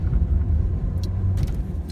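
A car engine runs with a steady low rumble from inside the cabin on a hot day, with a few faint light rattles over the drone.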